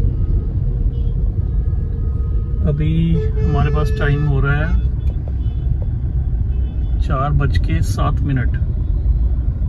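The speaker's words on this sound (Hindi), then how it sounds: "ट्रैफिक तो सबको दिखाना चाहिए।" Road traffic in Delhi, a loud, continuous low rumble of cars and engines running throughout, with someone speaking over it in two stretches.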